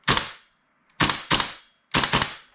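A Tokyo Marui AKM gas blowback airsoft rifle, powered by duster gas, fires four sharp, loud cracking shots in uneven rhythm, each with a short decaying tail of mechanical clatter, separated by silent gaps.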